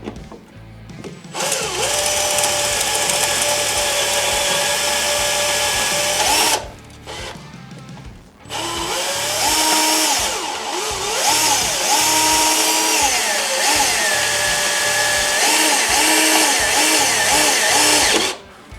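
A power drill whines loudly and steadily, dropping off briefly mid-way, then revving back up with shifting pitch as it bores through a Ski-Doo 2020 XRS 900 Ace Turbo snowmobile, close by with no talking.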